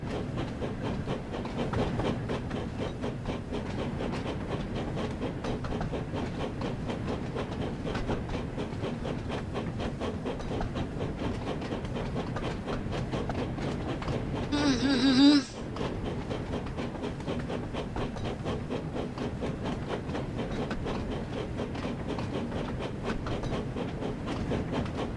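A train in the Thomas and Friends video game runs along the rails through the countryside at night, a steady rumbling rail noise held at moderate level for the whole stretch, with a short louder burst near the middle.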